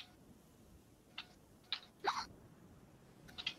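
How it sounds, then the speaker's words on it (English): Hiccups picked up over voice chat during a PvP game session: about four short, faint, sharp gulping bursts spaced irregularly over quiet background hiss. "Oh, hiccups."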